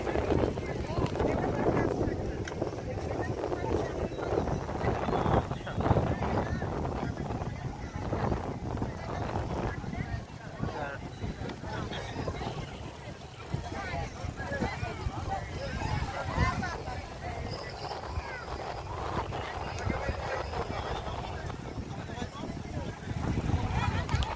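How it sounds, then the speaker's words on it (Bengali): Strong wind and roaring sea surf on Cox's Bazar Sugandha beach in the evening fill the whole stretch with a steady, dense rush and wind buffeting on the microphone, while someone talks over it. "চমৎকার বাতাস সাগরের গর্জন"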